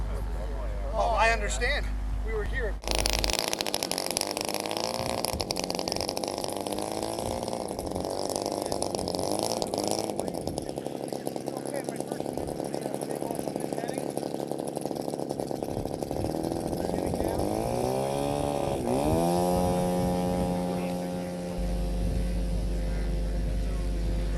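Buzzing 80 cc 3W engine on a model aircraft whining in flight, rising and falling in pitch as it passes, with someone talking over it throughout.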